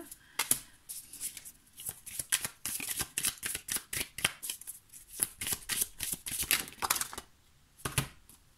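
Oracle cards shuffled by hand in a quiet room, a steady run of crisp riffling flicks and papery slaps that carry on for several seconds with short pauses between bursts, no voices over them.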